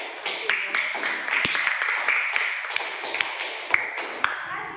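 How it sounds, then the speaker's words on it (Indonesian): A small group claps in a coaching session or classroom, scattered distinct hand claps with some sharp individual strikes rather than a dense roar, fairly close. "Terima kasih tepuk tangan untuk kelompok."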